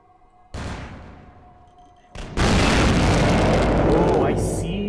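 Grenade launcher blasts in Vampire the Masquerade Bloodlines: a sharp explosion decays into rumble, then a second, louder, more sustained blast follows with crackling debris.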